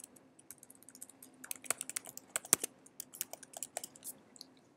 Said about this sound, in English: Let's suppose I am typing my password here.